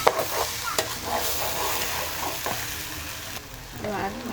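A spoon stirs mung dal pulao as it fries in a pan with green chilies. Steady sizzling runs under bursts of scraping and clinking, and no one talks.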